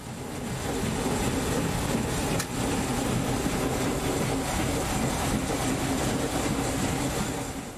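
Narrow-gauge 750 mm passenger train running in Ukraine, a steady rumbling roll with faint rhythmic clatter heard from on board, continuous and moderately loud with no talking.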